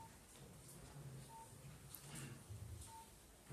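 A telephone gives two short, faint electronic beeps, spaced about one and a half seconds apart, over low room noise during a spiritual class.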